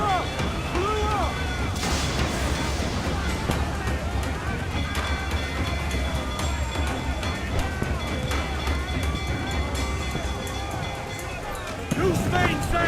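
Naval cannon fire during a ship battle in Assassin's Creed IV Black Flag, heavy booms and rumbling over a constant sea-and-ship din, while crew voices shout orders throughout.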